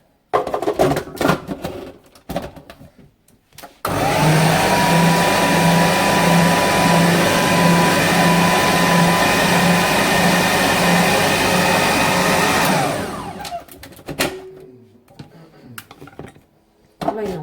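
Electric hand mixer beating softened butter for a quick cake filling, a loud steady whir running for about nine seconds, with clattery sounds before it starts and after it stops.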